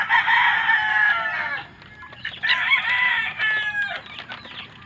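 A gamefowl rooster crows loudly and close by, a long strained call followed by a second broken crow, with clucking and rustling mixed in and no talking.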